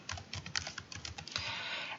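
Keys clatter on a computer keyboard as a folder name is typed, a quick run of close, light clicks over about two seconds, quiet and alone.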